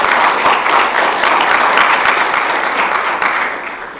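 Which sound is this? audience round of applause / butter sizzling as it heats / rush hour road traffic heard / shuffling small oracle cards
audience round of applause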